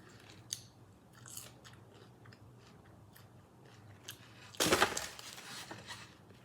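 Close, quiet chewing of French fries from Dave's Hot Chicken, with scattered small bites and mouth clicks, then a louder, crunchier burst of chewing near the end; no talking.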